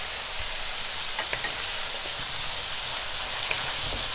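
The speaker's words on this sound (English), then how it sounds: "And now the dry masalas will fry with the tomatoes" Tomatoes and dry masala spices frying in a pot for dal palak give a steady, crackling sizzle with scattered pops and occasional stirring scrapes, moderately close, continuous throughout without talk.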